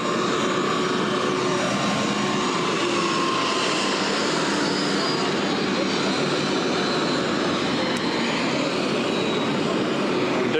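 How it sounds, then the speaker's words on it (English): A smaller Air Force One jet, not a 747, taxiing to a stop at McAllen airport in Texas gives a loud, continuous engine roar and whine that fills the whole stretch without a break. "the presidential plane is labeled Air Force One, a smaller version, not the 747 that you typically see, taxiing to a stop"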